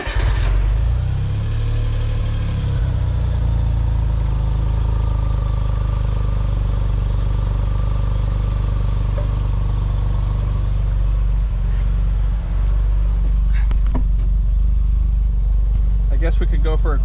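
A Suzuki Cara with a DOHC F6A engine and an odd running fault runs continuously up close with a deep, steady low rumble and drone, with a few faint clicks near the end.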